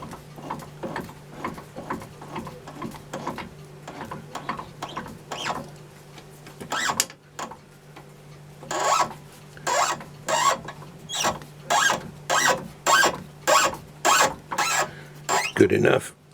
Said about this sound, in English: Now it's got to go into the mill and have flat spot on it.